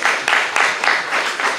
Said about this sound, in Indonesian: Kita berikan dulu tepuk tangan bagi Tuhan Yesus